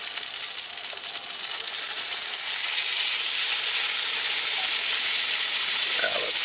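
Fresh fluke (summer flounder) sizzles in a hot pan just after being flipped, a close, steady hiss that swells louder after the first couple of seconds and holds on its own.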